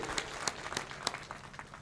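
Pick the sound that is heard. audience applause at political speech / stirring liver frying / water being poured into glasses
audience applause at political speech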